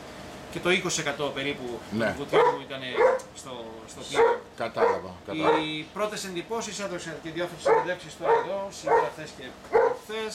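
A dog aboard a boat supporting dives on the Britannic wreck barks in short repeated bursts, mixed in under continuous close talk between two men.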